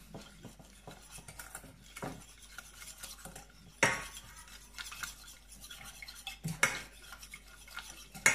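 A utensil stirs a cake cream mixture in a bowl, close and fairly quiet, with repeated scraping strokes and sharper clinks against the bowl at irregular intervals, and no one speaking.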